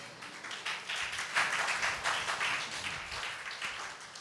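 A church congregation claps during a Tamil Christian sermon, with many hands making a fast, dense patter that swells and continues steadily throughout, fairly close and without speech over it.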